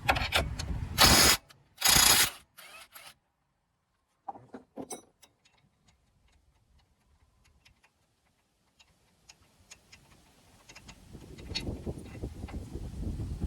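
Mechanical ratcheting and metallic clicks from a 19 mm wrench turning a nut on the axle of a 2009-2014 Nissan Maxima during driver-side axle replacement, with two loud bursts early, then faint scattered ticks and a rising clatter toward the end.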